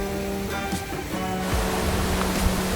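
River water rushes and churns steadily at a fishing spot, a broad continuous wash close by with no talk over it.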